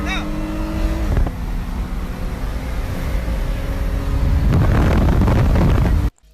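An Infiniti G37 and a Hyundai Genesis 3.8 racing side by side, loud roaring engines climbing through gears with heavy wind buffeting, building to a louder full-throttle rush before cutting off abruptly.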